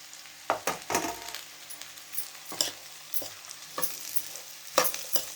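Potatoes fry with mixed vegetables in a spicy vegetable stir-fry, with a soft background sizzle and repeated scraping and stirring strokes of a utensil against the pan, up close.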